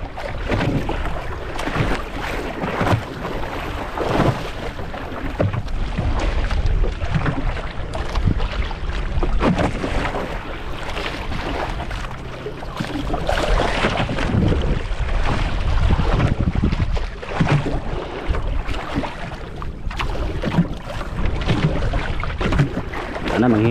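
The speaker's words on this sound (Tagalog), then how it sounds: "Oh, lakas ng takbo ng bangka natin oh, hinihila." A banca boat rushes through open water in the West Philippine Sea with continuous engine drone, splashing and wind buffeting the microphone, loud and close throughout.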